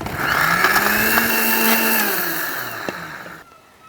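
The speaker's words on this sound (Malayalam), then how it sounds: "ഈ ബ്രെഡിന് ഇതേപോലെ പിച്ച് ഇങ്ങനെ മിക്സിൻ്റെ ജാർക്ക് ഇട്ട് കൊടുക്കട്ടോ. ഇനിയിപ്പോൾ ഇത് നന്നായിട്ടൊന്ന് പൊടിച്ചെടുക്കാൻ കേട്ടോ വേണ്ടത്." A mixer grinder whirs loudly and steadily as it pulverises bread into crumbs, its motor pitch sagging and wavering under load, then cutting off abruptly near the end, with no talk.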